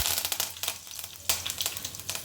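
Cumin seeds and curry leaves spluttering in hot oil while cooking a soya and chayote palya: a close, steady sizzle broken by sharp crackling pops.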